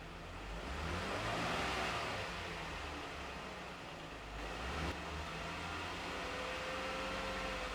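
Jeep engine running close by, held at a steady 2,000 RPM rev with a faint swell and dip, a quiet droning hum without voices.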